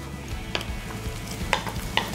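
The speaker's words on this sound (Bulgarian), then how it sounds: "Ще разбъркаме" Sautéed leek mixed with an egg and cheese filling for a leek banitsa, stirred in a pan with a light sizzle and a few sharp utensil clinks against the pan, close up.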